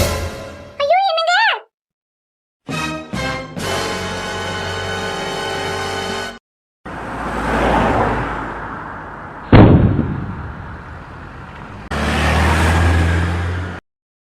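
In a cartoon, a lorry roars in with a rising engine rush, then hits with a sharp crash and a burst of noise. Dramatic music tones and brief voices come before it.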